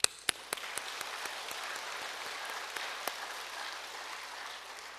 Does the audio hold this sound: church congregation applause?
yes